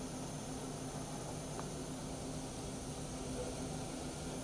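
A Hardinge CHNC-III CNC lathe with its spindle running at 1,000 RPM, producing a constant, even mechanical hum and whine with steady tonal lines and no change in pitch throughout.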